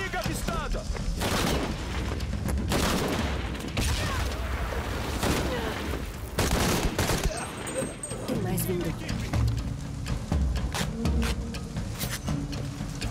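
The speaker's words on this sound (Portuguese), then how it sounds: "Parem de atirar!" Gunfire in Shadow of the Tomb Raider, repeated sharp shots and bursts scattered through a steady noisy background, some close and loud, others fainter, with a voice speaking over them.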